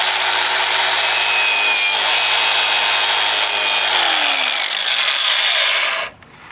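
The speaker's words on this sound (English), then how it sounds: "we're going to see if we can polish that up with the angle grinder" A wool pad loaded with extra-fine green polishing compound spins on an angle grinder against a steel timber-framing chisel, giving a loud, steady whir that winds down near the end as the tool is switched off.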